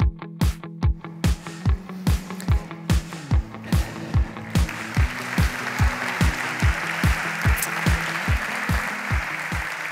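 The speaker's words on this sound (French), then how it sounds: "ça fait du bien d'entendre des applaudissements, c'est même assez merveilleux" Audience clapping in a steady, rhythmic beat over a low hum, building into a fuller, noisier wash of applause that carries on beneath the beat.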